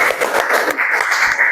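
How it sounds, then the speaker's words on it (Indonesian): Audience applause in a classroom-style lesson, a steady wash of clapping that stays fairly loud and even through the brief moment, with no talk over it. "kasih tepuk tangan untuk Mbak Zahra"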